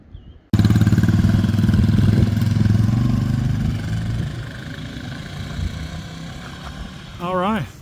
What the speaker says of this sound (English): just had a good visit with about 7 or 8 people on bikes. They're just out enjoying the day, doing a nice trail ride.